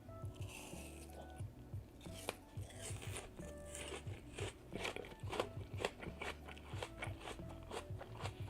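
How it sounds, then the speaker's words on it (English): Crunchy ASMR chewing of crisp bamboo, close and steady, with repeated bites and crackling chews over a low persistent background hum. "Are you guys ready for some bamboo? Some ASMR bamboo eating action?"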